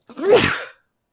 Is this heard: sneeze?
yes